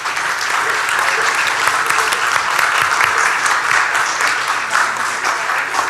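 Audience applause fills the room, a steady, loud wash of many hands clapping that holds evenly for about six seconds without pause.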